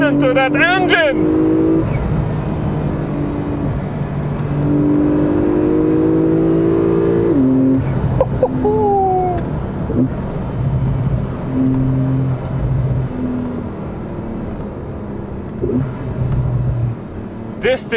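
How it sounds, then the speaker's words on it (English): A Porsche 911 Turbo S engine revs hard under acceleration, a loud sustained drone rising in pitch through several gear changes over roughly eighteen seconds, heard from inside the car. "Listen to that engine!"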